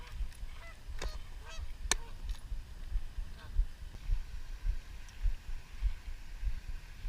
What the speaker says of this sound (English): all those geese over there were getting the big fights